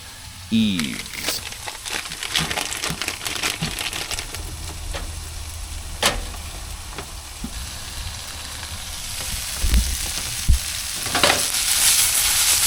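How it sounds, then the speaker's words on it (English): Onions and Yves veggie hot dog wieners fry in a pan, a steady close sizzle with scattered crackles and stirring scrapes that run the whole time, alongside intermittent speech. "Onions are browning up, and those wieners are looking hot and plump."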